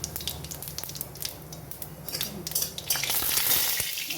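Whole cumin seeds hitting hot oil for jeera rice, a crackling sizzle with clinks of a spatula against the pan, swelling into a louder, steady hiss toward the end.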